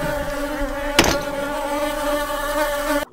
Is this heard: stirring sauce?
no